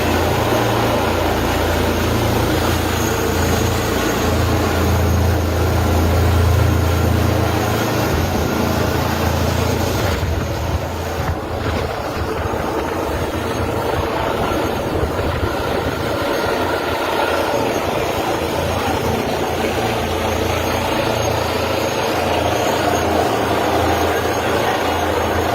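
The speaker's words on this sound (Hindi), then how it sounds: "सम्राट चौधरी का हेलीकॉप्टर हवा में लगभग 4 मिनट तक मंडराता रहा" A helicopter carrying Samrat Choudhary hovers overhead, a loud, steady rumble of rotor and engine with a throbbing low beat that persists for the whole stretch.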